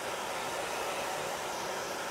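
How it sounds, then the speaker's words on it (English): A hair dryer blows steadily nearby, drying ink on a T-shirt, a constant loud whooshing hum with no other sounds. "And I'm only using my hair dryer right now"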